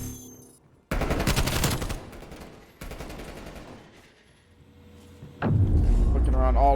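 Gunfire in a first-person shooter video game: two bursts of rapid automatic fire, loud and dense, followed by quieter rattling and a final sharp impact with a lower rumble.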